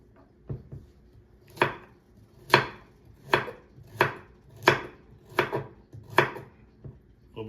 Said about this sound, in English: A little bit sloppy on the knife cuts there